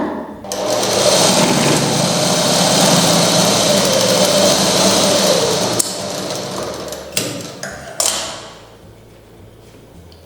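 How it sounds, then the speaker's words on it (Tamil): Sewing machine stitching along a fabric edge with white thread, a loud, close, steady motor whir that runs for several seconds, then stops with a few clicks and knocks as the machine halts. "இந்த ஓரத்தில் ஒரு ப்ரெஷர் ஃபுட் அளவு தையல் போட்டுருங்க"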